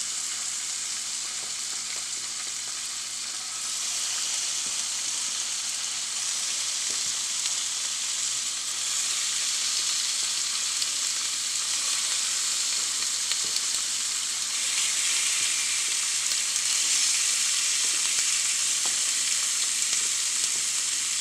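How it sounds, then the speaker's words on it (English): Fish sears in a hot pan for a red fish stew, a steady broadband sizzle with no talk, briefly swelling louder partway through. "We're going to start adding our fish to the pan. We're going to sear this off good."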